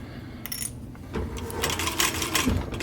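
A sewing machine stitching the brim of a military patrol cap, a close rapid mechanical chatter that starts in short bursts and then runs steadily, with faint clicks, no talk.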